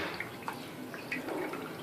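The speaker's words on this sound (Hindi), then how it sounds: "ऐसे डुबा के फिर आपने उसे ऐसे पानी उसमें डालना है" Water poured from a small vessel over a pigeon's leg dipped in a basin, a light trickle with a few soft drips and splashes, close by and fairly quiet.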